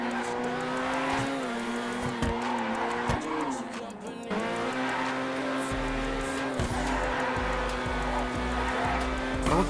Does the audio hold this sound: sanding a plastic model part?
no